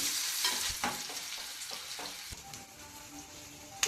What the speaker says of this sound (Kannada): ಈಗ ಈರುಳ್ಳಿ ಹಾಕೊಳ್ಳೋಣ ಎಣ್ಣೆಗೆ ಆದ ನಂತರ ಇದನ್ನು ಚೆನ್ನಾಗಿ ಈಗ ಫ್ರೈ ಮಾಡ್ಕೊಳ್ಳೋಣ